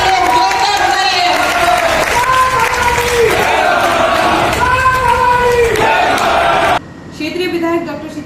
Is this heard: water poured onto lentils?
no